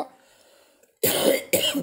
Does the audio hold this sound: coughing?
yes